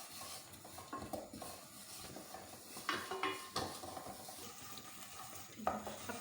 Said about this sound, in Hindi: इसे मिक्स करते हैं।